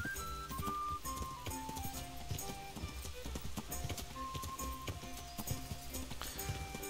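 Rhythmic clip-clop of horse hooves trotting steadily in the video game Kingdom Come: Deliverance, mixed with background game music and occasional clinks.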